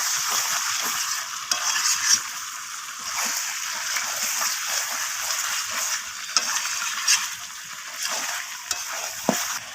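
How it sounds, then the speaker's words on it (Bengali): Chicken and peas masala with sour yogurt being stir-fried in a pan, a dense, loud sizzle and spatter running throughout with frequent scraping stirs and occasional sharp clinks, close up. "তো টক দইটা দেওয়ার পর আমি আবারও কষিয়ে নিচ্ছি এইভাবে"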